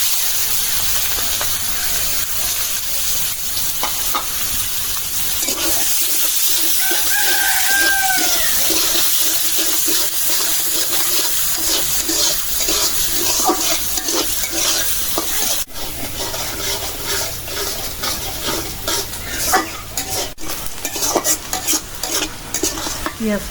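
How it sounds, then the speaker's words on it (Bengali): Onions frying until reddish-brown in a pan, stirred continuously, giving a steady, close sizzle with rhythmic scraping and clatter; a rooster crows faintly in the background partway through. "পেঁয়াজটা লাল করে ভাজা নিলাম।"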